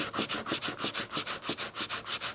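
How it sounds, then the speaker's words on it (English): Sandpaper rubbed by hand over a smoothed artwork surface in steady back-and-forth strokes, about five per second, each a close, even rasping swish with no voices. "And then I'll start with the sandpaper."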